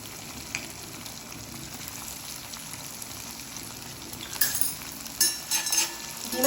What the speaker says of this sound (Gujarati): આપણે એને ધીમે ધીમે તેલમાં તળવા મૂકી